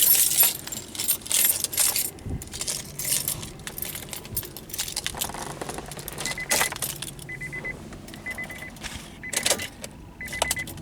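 Car keys and remote fobs for an Acura TL jangle in short, bright metallic bursts, close by, with scattered clicks and small handling noises between them.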